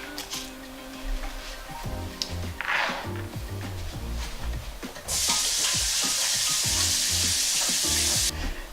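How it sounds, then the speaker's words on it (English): Shrimp for ceviche rinsed in a kitchen, with handling noises and music in the background before a tap opens and a loud, steady rush of running water continues for several seconds, then stops. "And I'm going to rinse this off."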